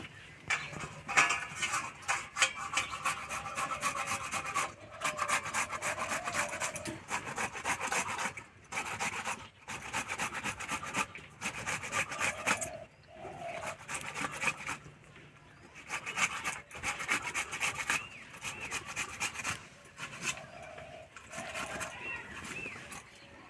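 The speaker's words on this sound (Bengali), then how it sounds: "আমি এখানে একটা টমেটো পেঁয়াজ নিয়েছি গ্রেট করে নেব" Tomato and onion are grated on a hand grater, making repeated close, rhythmic rasping strokes in steady bursts with brief pauses between them.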